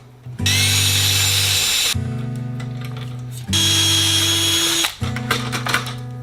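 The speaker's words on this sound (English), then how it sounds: "I need to drill out this one here on the end that needs to go up to the full 3/16 size" Power drill opening a bolt hole up to 3/16 size in an aircraft rear spar carry-through, two long loud whirring bursts of steady motor whine separated by a short pause, then brief choppy revving, close up and alone.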